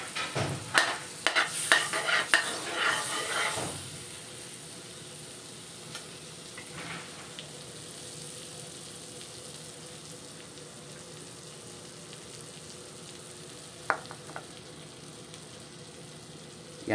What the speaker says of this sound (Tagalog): Ngayon naman, nagtutunaw ako ng butter.